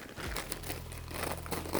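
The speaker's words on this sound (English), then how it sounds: "I'm just going to tear away the stabilizer" Embroidery stabilizer being torn away from a sewn blouse design, giving a close, continuous crinkly rustle and ripping sound with a low steady hum underneath.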